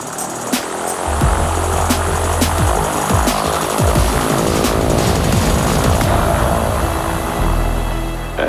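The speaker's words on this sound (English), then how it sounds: "In this plane, hydrogen is being used in a fuel cell to run an electric motor, producing zero carbon emissions." A hydrogen fuel cell electric airplane in flight, its electric motor and propeller giving a loud, steady, throbbing drone that runs unbroken from start to finish, with no voices over it.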